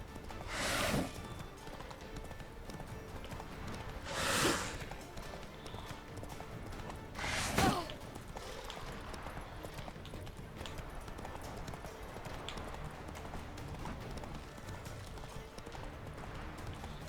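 Horse hooves gallop in The Witcher 3 while Ciri rides hard from pursuers, a steady clip-clop rhythm with three louder thudding bursts over a constant rumbling background.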